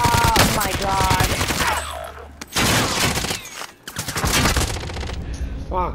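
Rapid gunfire rattles loudly through a video game battle, with dense bursts filling most of the moment while players talk over it.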